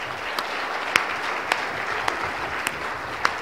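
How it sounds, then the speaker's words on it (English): An audience at a conference luncheon gives the panel a round of applause. The clapping is continuous and fairly loud, with a few sharper claps standing out at intervals, and nobody talks over it. "we have to give our panel a great big round of applause"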